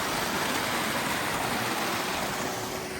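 A small mountain stream flows across the trekking trail to Yulla Kanda in the Himalayas, a loud, steady rushing hiss of water that stays constant throughout with no talking.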